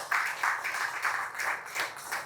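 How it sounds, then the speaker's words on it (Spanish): Congregation applause at a church service, a steady wash of many hands clapping with rhythmic pulses, moderately distant and sustained throughout. "¿Le podemos dar un aplauso al Señor y a su palabra?"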